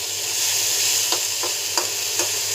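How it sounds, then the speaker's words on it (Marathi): Finely chopped tomatoes frying with onion in a pan hiss in a steady sizzle, broken by four or five soft scraping strokes of a spoon at regular intervals, with no talking. "त्याच्यानंतर आपण बारीक कापून ठेवलेले टमाटर टाकायचे."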